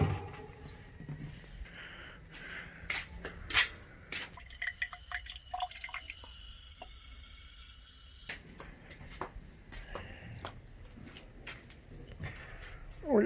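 Water trickles and drips while a container for the birds' drinking water is filled on a rooftop, a busy, irregular patter of small splashes and plinks, with occasional faint voices.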